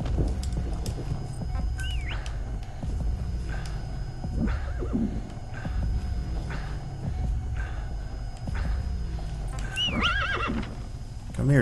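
D-Horse in the Metal Gear Solid V video game neighs and whinnies several times over steady galloping hoofbeats, loud and close, with a low hum beneath.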